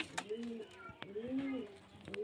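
Chocolate-coloured pigeons cooing, several soft rolling coos close by, quiet and repeated at roughly one-second intervals.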